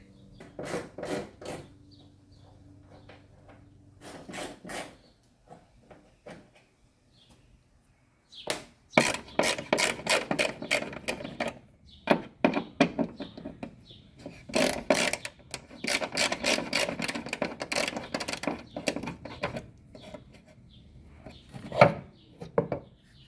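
A ratchet tool works on torque screws and the fuel door of a 1999 Saleen, with quick close-up clicking bursts separated by pauses, growing busier and denser in the second half.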